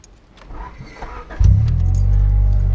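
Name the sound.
1993 Honda Del Sol engine starting, starter motor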